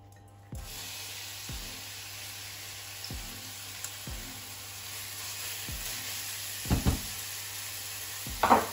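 Onions frying in olive oil in a pan for a meat and carrot lasagna. A soft, constant sizzle runs beneath regular hollow knocks of a utensil against the pan, with a few louder clatters toward the end.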